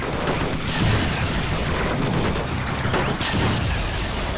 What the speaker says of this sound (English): I'm blowing up the competition with big-ass grenade launcher mine